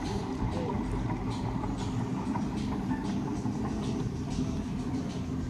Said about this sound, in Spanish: Ahí viene la lancha, miren.